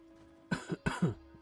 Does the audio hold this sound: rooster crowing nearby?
no